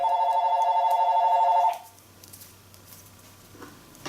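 A mobile phone rings loudly and steadily for under two seconds in a room during a fondant logo-making session, then cuts off, leaving only a quiet room tone.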